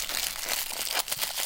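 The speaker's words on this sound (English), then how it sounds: "Apologies for crinkling noises." A plastic bag holding parts for a DIY bandage puzzle cube kit crinkles loudly and continuously up close as it is pulled open, in short bursts of rustling for a second and a half with no voices.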